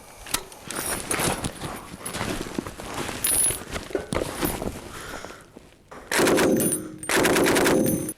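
Bursts of automatic fire from an FN MAG general-purpose machine gun, loud and close, with sustained rattling volleys followed by two short, heavy bursts separated by a brief pause.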